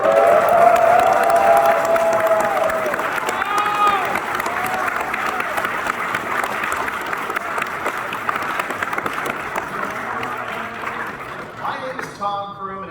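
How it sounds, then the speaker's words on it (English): Applause mixed with cheering rises from the audience in a convention panel room at Fan Expo Boston, sustained and steady throughout, with a voice speaking over the crowd noise at times. "Give yourselves a round of applause for coming."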